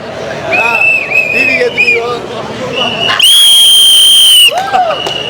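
Cricket fans at a CSK match whistle loudly and repeatedly. Sharp shrill blasts and warbling whistles cut through a noisy crowd with shouting voices, and one long piercing whistle is held for over a second near the end.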